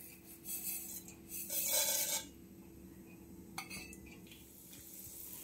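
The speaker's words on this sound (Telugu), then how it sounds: "దానిలో కొంచెం వేడెక్కిన తర్వాత ఈ మెంతులు, ఆవాలు అయితే వేస్తున్నాను నేను." Fenugreek and mustard seeds dropping into hot oil in a pan while making mango fish curry, giving bursts of bright crackling and rasping sizzle that swell and fade, with a few sharp pops and a steady low hum beneath.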